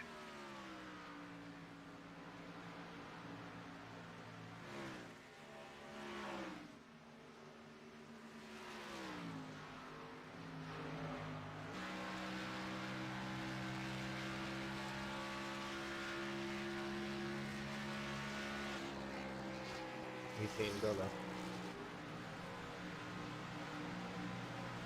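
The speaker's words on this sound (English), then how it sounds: "Give you guys about 90 seconds of sexy racing action here on the Old Bastards Racing League." Stock car engines in a Metro Ford GN Series race at Charlotte in a NASCAR racing sim, droning and shifting pitch as cars accelerate and pass, with overlapping engine notes, fairly faint and steady with a brief louder burst near the end.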